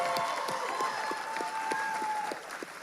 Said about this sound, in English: give all the graduates one more round of applause.